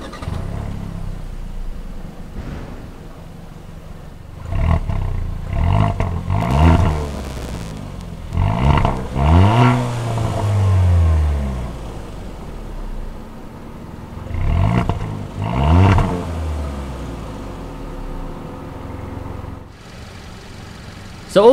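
Engine of a 2020 Kia Forte GT with a sport-tuned exhaust revving through several sharp rising and falling bursts between idle, loud and close, with throaty exhaust tone and no talking.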